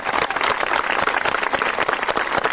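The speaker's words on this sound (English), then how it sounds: "students, let's give these parents a round of applause" Students and audience clap for parents at a sixth grade graduation ceremony, a loud, dense round of applause with sharp irregular claps close by and no clear speech.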